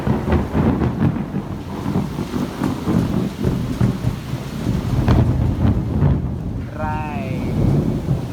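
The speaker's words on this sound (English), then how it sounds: "The rain." Heavy rain pours steadily with rumbling thunder and gusts buffeting the microphone, a dense loud wash throughout, with a brief high chirping call near the end.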